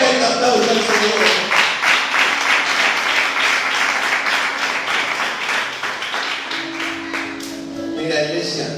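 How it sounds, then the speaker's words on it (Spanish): A church congregation claps loudly and steadily for several seconds, the applause thinning toward the end as a voice returns. "Dale un fuerte aplauso al Señor."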